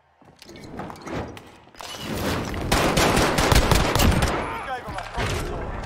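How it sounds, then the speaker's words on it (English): Pistol gunfire crackles through a combat-heavy video game scene, with repeated sharp shots building into dense, loud bursts over several seconds amid other battle noise. "Hit fire with the pistol."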